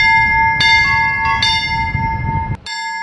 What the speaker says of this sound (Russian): а колокольным звоном люди возвещают всем окружающим о Пасхе.